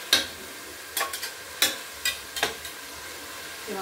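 Tomatoes cooking in a pan for vegetable biryani, with a few sharp spoon scrapes and taps against the pan spaced irregularly over a faint, quiet simmer.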